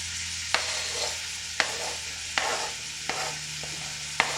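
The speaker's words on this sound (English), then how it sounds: "get a load of that sizzle" Food sizzles in a pan during preparation of bean and barley soup, a steady close frying hiss punctuated by about six sharp, evenly spaced utensil taps or scrapes, with no talking.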